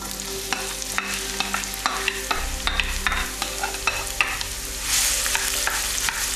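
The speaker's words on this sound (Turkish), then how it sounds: "Şimdi kıydığımız soğanı ekliyoruz." Chopped onion frying in a few spoonfuls of oil in a pan, a continuous sizzle broken by repeated clicks and scrapes of stirring, swelling into a louder hiss near the end, with no voices.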